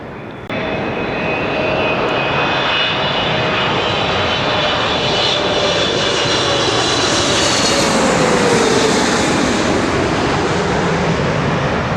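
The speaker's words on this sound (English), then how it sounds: "Next aircraft coming from Kuwait, the 777." A Boeing 777 arriving from Kuwait passes close by at Heathrow, a loud sustained engine roar with a high whine that rises and slowly bends in pitch as it flies over.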